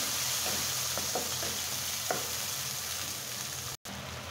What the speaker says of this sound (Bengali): আমি পেঁয়াজ, রসুন আর কাঁচা মরিচের পেস্টটা 1 মিনিট মতো ভেজে নিলাম